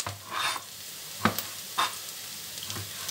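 Garlic and onion sauté in a pan over a steady, soft sizzle, with a few short stirring scrapes spaced through it, close by and moderately quiet.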